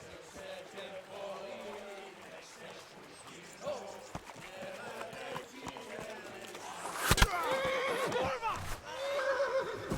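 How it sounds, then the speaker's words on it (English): A horse in the video game Kingdom Come: Deliverance gives a loud whinny near the end, following a stretch of steady game sound and muffled background voices. "That's the horse."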